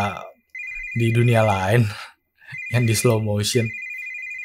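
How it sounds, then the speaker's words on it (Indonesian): A phone ringtone chimes in repeated bursts in the video game The Space-Eating Croc while a person speaks and laughs over it. "telepon dari sini nih pasti."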